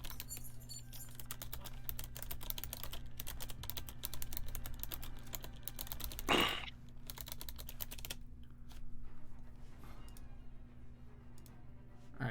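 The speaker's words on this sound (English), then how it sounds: "I'm typing to Brady" Fast, steady typing on a computer keyboard, with dense close key clicks running for several seconds over a low hum, a brief louder knock midway, then sparser taps.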